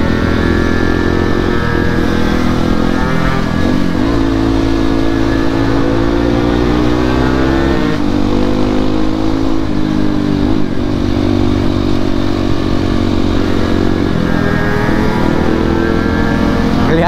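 A motorcycle with a badly worn bald rear tire and wireless handlebars runs continuously while being ridden, the engine droning loudly and steadily with pitch rising and falling as it revs, close up and alone.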